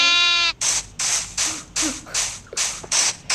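Sheep in the Minecraft video game make a short harmonic bleat, followed by a rapid run of evenly spaced, loud noisy bursts repeating about every half second, close and with no talk.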